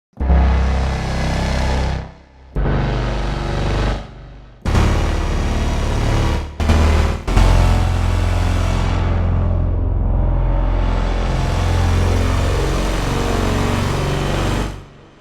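Void Chunk, a synth patch from the Galvanizer sound design plugin, plays as loud, dense, booming noise bursts, several chopped blocks giving way to a long sustained roar that sweeps down and back up before cutting off.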